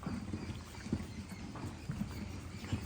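A horse's hooves clop in a loose, irregular rhythm on a hard surface at a horse sale, fairly faint against a steady background hiss, with no talking.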